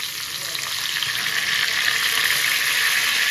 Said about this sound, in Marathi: आणि आता कढीपत्ता पण टाकते